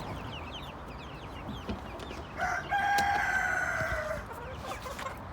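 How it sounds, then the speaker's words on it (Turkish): Chickens cluck and chirp in the background on a farm during feeding, then a rooster crows loudly and close by for about two seconds before fading back into the clucking flock. "Tavuklar yemlemelerini yapıyoruz."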